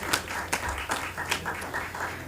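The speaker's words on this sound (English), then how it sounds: "And let's just give them a round of applause" An audience at a community college debate competition gives a scattered round of applause. A few sharper individual claps stand out against a thin, moderately quiet background of clapping.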